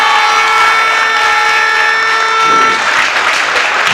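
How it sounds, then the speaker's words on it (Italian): Crowd applause for the teams at a volleyball match, a sustained loud wash of clapping mixed with steady tonal hum, thinning slightly toward the end. "Sì, gli hanno tributato il giusto applauso"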